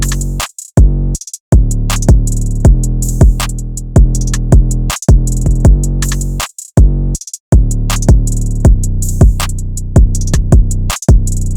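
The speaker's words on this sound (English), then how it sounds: "Putting all of those sounds together gives us this drum pattern." A trap-style drum pattern in a beat, with booming 808 bass, punchy kicks and an open hi-hat on the second beat every two bars, looping steadily and loud with brief dropouts.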